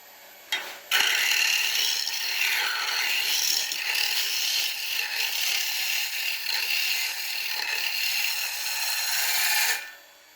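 A bowl gouge on a wood lathe sweeps across a spinning log, giving a steady, loud shearing rasp that starts abruptly and runs for about nine seconds before cutting off.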